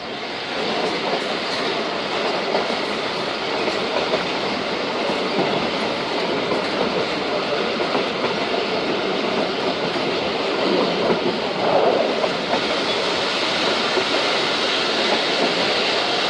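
Thal Express passenger train rolling along the tracks, a loud continuous rumble of wheels and carriage noise with faint rhythmic clatter, steady throughout and heard from inside the train.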